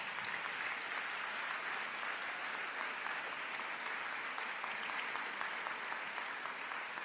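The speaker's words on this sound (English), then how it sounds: "Let's give them a round of applause." Sustained applause from a large audience at an education professionals' welcome event, dense and even clapping lasting the whole stretch, heard somewhat distant and without talk.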